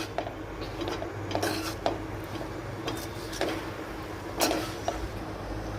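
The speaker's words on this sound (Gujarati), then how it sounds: "બધું જ બરાબર મિક્સ કરી દઈશું।" Schezwan fried rice tossed and stirred in a pan, with repeated metallic scrapes and clinks of a spatula against the pan, steady and close over a constant background hum.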